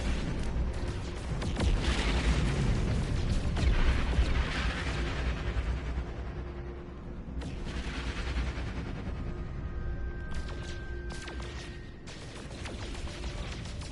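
Weapon fire in No Man's Sky, a continuous rapid stream of booming shots and rumbling impacts, loud and sustained with brief tonal pings toward the end.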